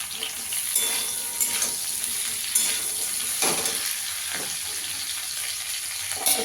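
Potatoes and drumstick stalks sizzle steadily in hot oil in a pan, a continuous broadband hiss broken by a few brief scraping stirs, close and moderately loud with no talking.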